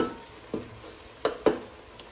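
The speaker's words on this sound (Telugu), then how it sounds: "ఇది ఇలా ఆనియన్ పేస్ట్ వేసుకున్న తర్వాత కలిపేసుకొని ఒక 2-3 నిమిషాలు మంచిగా" Onion paste cooking in oil in a pan, a soft low sizzle broken by a few sharp scrapes and clinks of a spoon stirring, fairly quiet and close.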